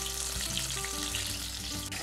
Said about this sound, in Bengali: বেগুনটা আমি একদম সিদ্ধ হওয়া পর্যন্ত সুন্দর যেভাবে বেগুন ভাজা আমরা করি ঠিক সেইভাবে ভেজে তুলব।